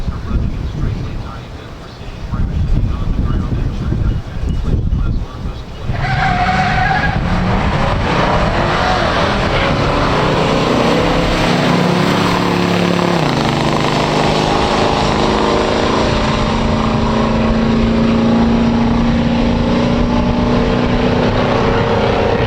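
A stock 1969 Hurst Olds and 1969 Buick GS 400 rev and then roar off together on a drag strip, a sustained high-powered drone that climbs in pitch as the cars accelerate away.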